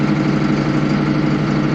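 Allis Chalmers 7580 tractor idling with a new Stanley muffler, a loud steady low diesel drone with an even throb and no other sound.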